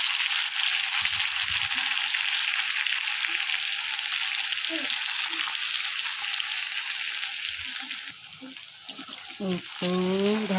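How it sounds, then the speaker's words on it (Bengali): Crushed onion and garlic fry in oil with dried chillies, a loud, close, continuous hissing sizzle with light stirring scrapes, while a voice speaks briefly near the end. "ভালো করে ভাজা হোক।"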